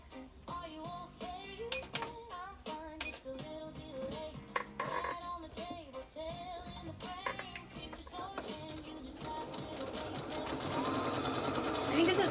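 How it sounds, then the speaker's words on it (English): A home sewing machine runs a test stitch with rapid mechanical whirring and ticking throughout, close by, while a person talks over it and the motor noise swells louder toward the end. "let's do a test stitch"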